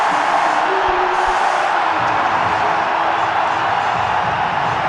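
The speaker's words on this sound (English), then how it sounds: "Listen to the crowd. It's a sea of blue. And they're all up." Dense, roaring stadium crowd at an India versus Australia T20 cricket World Cup match, a loud sustained wall of cheering and yelling after a wicket falls, steady without pause.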